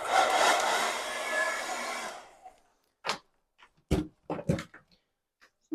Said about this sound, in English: you can dry the Gelli plate with the hairdryer only on a cool setting though.